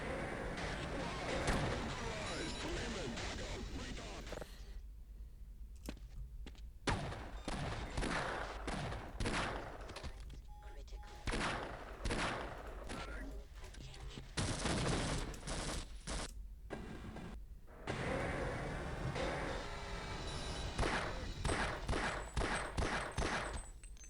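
Gunfire in Half-Life rattles in dense repeated bursts of shots, separated by brief pauses, sustained and fairly close, with game effects mixed in.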